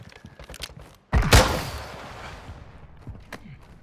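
Gunfire in a battle royale video game: light pops and clicks, then a sudden heavy burst of shots that rings out and fades into a long decaying tail, with a few more sharp cracks following.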